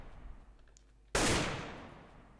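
In a modded CS:GO match, a decoy grenade plays a random gunfire sound, a single sharp loud blast that decays over a second after a quiet lead-in.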